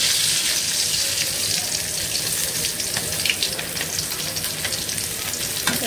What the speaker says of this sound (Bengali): এই যে কই মাছ ভাজা